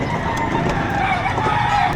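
Dense chatter of many chickens and roosters at a Padre Garcia, Batangas livestock auction market, steady and close with overlapping clucks and calls, voices mixed in the background.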